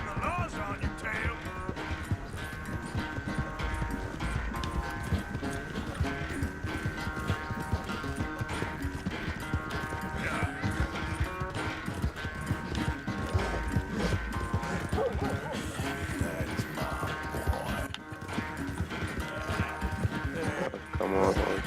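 Horse hooves gallop steadily in Red Dead Redemption 2, a fast continuous clip-clop rhythm beneath layered game music and ambience, with a rider urging the horse on.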